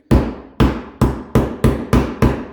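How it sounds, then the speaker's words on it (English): A small hammer taps a cone washer back into a cracked KTM dirt bike's plastic bodywork: seven sharp, evenly spaced metallic knocks, close and loud, each with a short ringing decay and no talking. "Grab yourself a little hammer."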